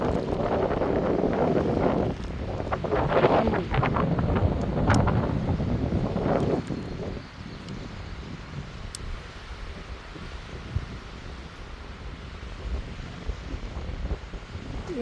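Strong, cold wind at Crescent Beach buffets the microphone in loud, rumbling gusts that ease after about seven seconds into a lower, steady rush.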